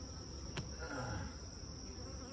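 Honey bees buzzing around swarm traps, a faint, steady hum of many insects close by with a brief sharp click partway through.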